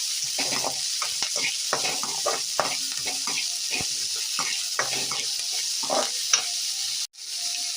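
Cut okra frying for tamarind kuzhambu is stirred in a pan, with a steady sizzle broken by repeated scraping strokes of the spoon, close and continuous until a brief knock near the end.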